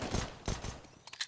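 Desert Eagle pistols firing in a Counter-Strike match, a burst of several sharp, fairly loud shots in quick succession with faint footsteps or clatter following near the end.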